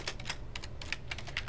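Quick bursts of keystrokes on a computer keyboard, light uneven clicks in short clusters, faint and close with no voice over them.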